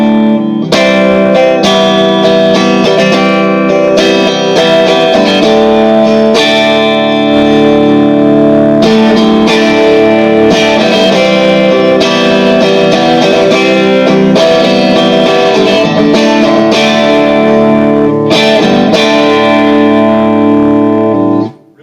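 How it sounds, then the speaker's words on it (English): An Ovation Breadwinner electric guitar with active electronics rings out sustained clean-tone chords and notes, loud and close, with a shimmering reverb-like tail, playing continuously before cutting off. "the thing about this guitar that's really cool is that the clean tones are very, very usable."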